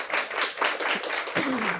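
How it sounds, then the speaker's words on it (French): Conference audience applauding a presenter after thanks for a working group's efforts, moderate steady clapping throughout with a brief voice near the end. "Je pense qu'on peut l'applaudir."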